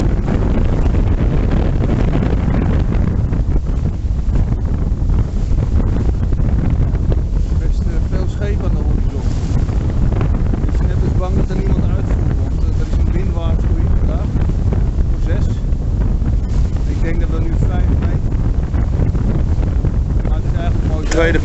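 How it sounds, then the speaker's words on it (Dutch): Strong wind buffets the microphone aboard a sailboat sailing in light rain at about force 3 on Easter Monday, a loud, constant roar of rushing air and water noise filling the whole stretch with no clear pauses. "het waait windkrachtje 3 en volgens ons is dit de eerste keer dat we met regen zeilen"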